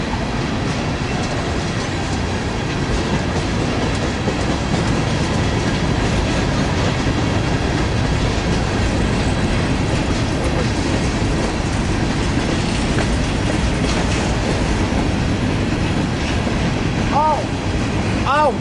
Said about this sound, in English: apparently we have an eastbound BNSF freight about to pass right now